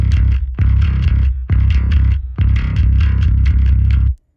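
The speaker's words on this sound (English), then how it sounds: "when you unmute the distortion track, that's where you really start getting that grit and that attitude" Bass guitar played with a distortion track added, giving gritty, driven tone; four loud sustained phrases with brief gaps between them, ending abruptly, heard alone without talk.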